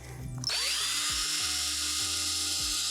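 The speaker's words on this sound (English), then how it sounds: "Place another board directly on top of the first one you have and drill 3 holes," A power drill bores holes through a wooden board for a DIY raised bed, spinning up quickly to a loud, steady high whine that holds close and constant.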